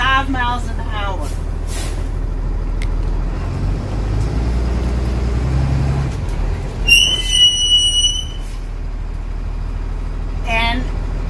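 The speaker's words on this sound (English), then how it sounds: "I'm going to release my parking brake, and we're going to get up to about 5 miles an hour" A school bus rolls forward at about 5 mph for a brake test after its parking brake is released, giving a low rumbling engine drone, with sharp air-brake squeals and hisses partway through and again near the end.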